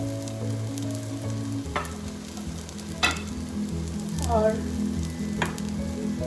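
Onions and spices fry in a pan for chana tarkari, a steady close sizzle with a few sharp spoon scrapes and stirring strokes spaced through it.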